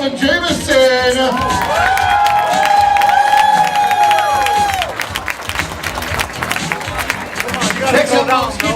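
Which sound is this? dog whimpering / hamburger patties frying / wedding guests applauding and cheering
wedding guests applauding and cheering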